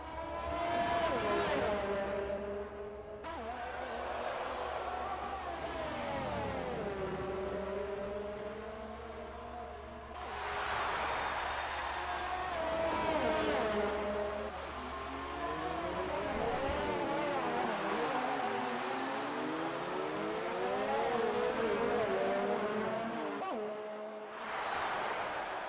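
Onboard view of Formula race cars in a racing video game, engine revs sweeping up and down through gear changes and corners, loud and close, with a steady low drone under the first part and short lifts between bursts of acceleration.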